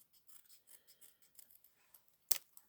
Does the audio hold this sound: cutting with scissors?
yes